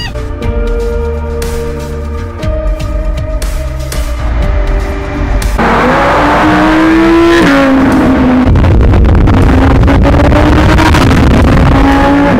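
A Lamborghini SV supercar engine revs loudly and close, rising and falling in aggressive bursts before a sustained roaring pull, driving in a convoy with other supercars.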